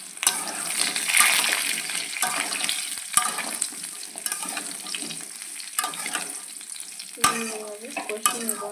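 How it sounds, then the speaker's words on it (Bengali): Mango pieces are stir-fried in spiced oil for pickle: a steady, close sizzle broken by repeated scraping and clattering strokes of a spoon against the pan. "এভাবে কষিয়ে নেবো আমি আমগুলো।"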